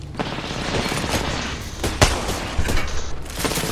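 Apex Legends gameplay carries dense rapid gunfire, bursts of automatic shots with sharp cracks and a heavy boom near the middle. It stays loud and continuous throughout, with no clear talking.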